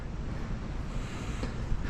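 Atlantic Ocean waves at a beach in Old Orchard Beach, Maine, heard as a steady wash of surf mixed with wind buffeting the microphone.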